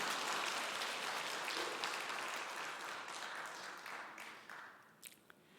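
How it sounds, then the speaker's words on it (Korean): Church congregation applauding at a Friday prayer service in Daegu, a broad steady clapping that fills the room, holds strong for several seconds, then thins and fades toward the end. "박수를 세게 쳐야 될 것 같아요."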